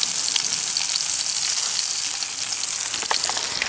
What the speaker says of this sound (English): There's the bacon, there's the egg, and the sausages are cooking.